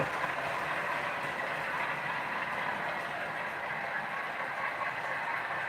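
Model trains, including a Class 50 locomotive, running steadily around a model railway layout, giving a continuous close rumble and whir with no speech over it.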